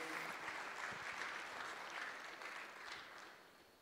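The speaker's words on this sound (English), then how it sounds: "give them a round of applause" A church audience claps in steady applause, a dense, even patter that fades slightly toward the end, with no voices over it.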